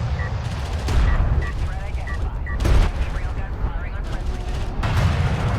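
Railgun volleys in a Homeworld: Deserts of Kharak strategy match crack out in repeated heavy bursts and booms over a rumbling battle din, with several sharp shots spaced across the passage.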